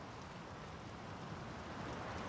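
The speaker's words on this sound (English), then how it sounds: "The rain's picking up." Steady rain falls in the Draugen video game, a faint, even hiss of drops that continues without break and with no voices.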